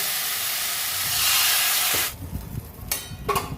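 Water goes into a hot pan of pumpkin, potato and fish curry, raising a loud, hissing sizzle for about two seconds that cuts off abruptly, followed by softer bubbling and a few clinks.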